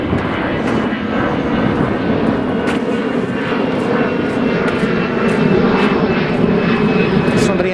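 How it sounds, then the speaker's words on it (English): Airplane engine roar from an aircraft taking off over Los Angeles, a steady broadband drone holding at a loud level from start to finish, with faint outdoor background beneath it. "Another airplane taking off, which is odd."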